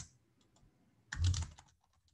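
A short flurry of computer keyboard keystrokes, clustered in one quick burst of clicks near the middle, heard close while coding a simple loop during a live programming contest solve.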